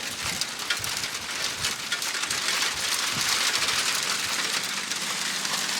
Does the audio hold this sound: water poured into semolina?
no